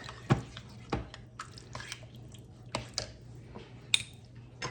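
A spoon scrapes and taps through a pot of pantry chili in a few sparse, close clicks and scrapes over a quiet background.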